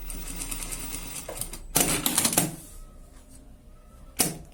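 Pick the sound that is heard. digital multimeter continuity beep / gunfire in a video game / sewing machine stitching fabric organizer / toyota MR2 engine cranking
sewing machine stitching fabric organizer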